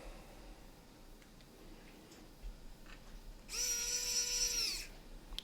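Power drill driving screws into powder-coated metal, one short high whirring burst of about a second that stops once the screw is tight, following quiet room background.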